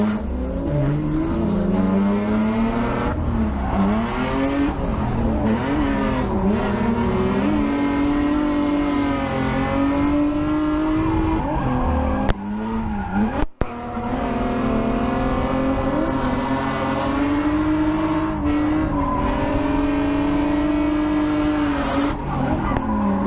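A BMW E46 on a bucket seat laps the Kalamazoo race track during competition practice. Its engine drones steadily and loud throughout, rising and falling with shifts, with tire squeal and skidding in the corners and a brief dropout midway.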